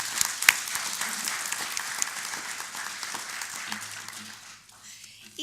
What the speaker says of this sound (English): Please join me in giving everyone involved a round of applause for your participation.